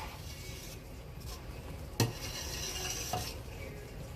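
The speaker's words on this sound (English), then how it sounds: "you just definitely want to keep constantly stirring it" A spoon stirs homemade no-pectin strawberry jam in a pot over medium-high heat, making a soft continuous scraping swish with two brief knocks against the pot.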